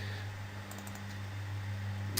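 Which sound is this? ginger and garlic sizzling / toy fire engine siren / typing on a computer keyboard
typing on a computer keyboard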